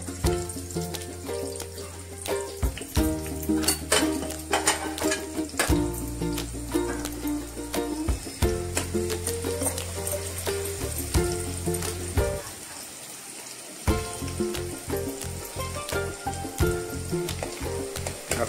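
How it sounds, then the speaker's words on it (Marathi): Chopped onion sizzles and fries steadily in hot oil for a tempering, the crackle continuous and close throughout, with background music playing over it. "आता फोडणीवर कांदा टाकायचा आहे."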